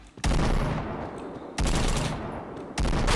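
Shooting video game gunfire comes in three loud, dense bursts of rapid shots, each lasting about a second, close and harsh with short gaps between them.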